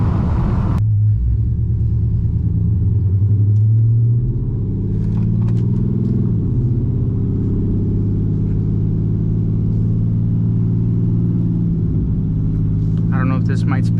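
A Dodge Charger with a newly installed cam, its engine giving a loud, deep, steady rumble close by, with the tone shifting as revs change and brief faint knocks near the end.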